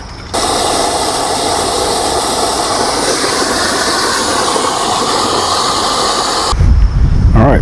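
A 1980 Evinrude 4.5 hp two-stroke outboard motor running, a loud, steady buzzing hiss that kicks in abruptly, holds constant for about six seconds, then cuts to a different rumbling noise.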